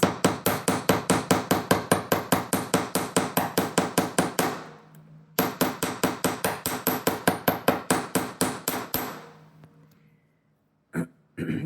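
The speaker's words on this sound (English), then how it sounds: "Then I'm going to start hammering this." Silver wire for wire-wrapped earrings struck with a hammer in two fast, even runs of sharp close metallic taps, about two dozen blows each, with a short pause between runs and a few last knocks.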